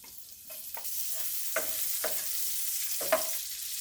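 Cumin seeds and green chilies fry in mustard oil with a soft, fairly quiet sizzle, punctuated by a handful of brief spoon taps and scrapes in the pan.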